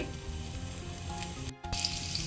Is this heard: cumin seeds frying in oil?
yes